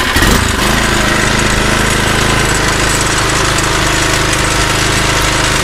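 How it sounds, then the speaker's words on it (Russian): A CAIMAN MOKKO 40 C2 petrol cultivator engine fires up after a brief starting jolt and then runs at a loud, steady, rattling chug close by. "Культиватор у нас завелся с первого раза"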